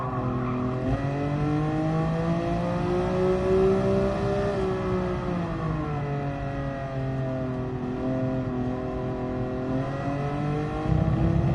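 An RB26 engine in Gran Turismo Sport revving loudly and continuously, pitch climbing and falling through gear changes with a smooth, strong harmonic drone, with no talking over it.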